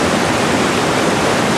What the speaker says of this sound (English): let's take a look at our very first rapid of the day,